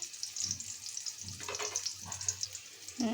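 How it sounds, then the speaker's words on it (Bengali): Onions with added salt frying in a little oil for prawn fritters, a soft steady sizzle close by with a few stirring movements and a brief clunk at the end. "পেঁয়াজটা বেরেস্তা হওয়ার জন্য আমি লবণ দিয়ে দিলাম পেঁয়াজের মধ্যে।"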